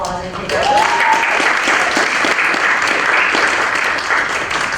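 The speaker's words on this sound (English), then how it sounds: "Let's give Sue a round of applause and congratulations" Audience applause for an author at a Brooklyn College book event, a dense steady wash of clapping that rises quickly and holds for several seconds, with a brief voice at the very start.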